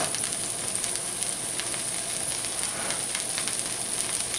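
Onions caramelizing in a pan for beef tips and noodles give off a constant soft sizzle and hiss, steady and unbroken throughout with no voices.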